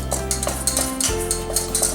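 Confectioners sugar icing for a bundt cake being stirred in a bowl, a steady run of soft scraping and light clinks from the utensil repeating several times a second, close and moderately loud with no voices.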